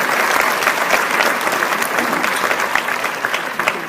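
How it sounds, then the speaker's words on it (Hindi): An audience at a Hindi poetry gathering in Dubai gives a poet loud, sustained applause, with dense, steady clapping from a large crowd that continues throughout. "एक बार जोरदार तालियां आप उनके सम्मान में बजा दीजिए"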